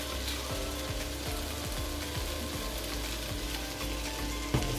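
Sliced onions sauté in a pan for prawn biryani, a steady close sizzle with a faint rhythmic stirring scrape and a brief knock at the end.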